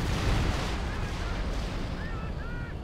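Rocket barrages exploding in the World War II strategy game Company of Heroes 2, a continuous low rumble of blasts heard at moderate distance, with faint tonal sounds near the end.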